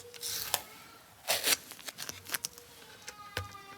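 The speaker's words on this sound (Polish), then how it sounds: "Odklejam taśmę." Sticky tape crackles and rips in a few short, sharp bursts as it is peeled off the frets of a Squier Affinity bass guitar during fret polishing, close by, with quiet pauses and small rustles between pulls.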